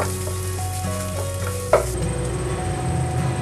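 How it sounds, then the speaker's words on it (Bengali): Rice with cashews frying in a pan for soy basanti pulao, a steady close sizzle with stirring scrapes throughout and a brief louder clatter midway; no talk. "আর চালটা ভাজার সময় আমি দিয়ে দেবো একটু হলুদ"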